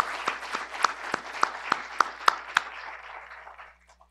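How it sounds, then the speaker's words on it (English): An audience at the 2023 State of the City University of New York address applauds faculty, with a few prominent hands striking a sharp, regular beat over softer scattered clapping that thins out and fades. "big round of applause."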